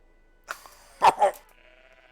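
A few short bleats from a goat in the game Everything, close and fairly faint, with quiet gaps around the calls.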